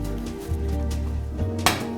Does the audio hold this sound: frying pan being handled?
yes